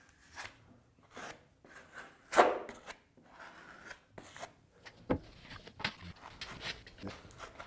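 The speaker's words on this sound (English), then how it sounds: "I'm using a little rubber trowel to spread the Totalfair out, and it works great" A small rubber trowel spreads and scrapes Totalfair fairing putty across a fiberglass skiff hull, giving soft, irregular rasping strokes and wet scrapes, close and fairly quiet, with a few sharper knocks near the end.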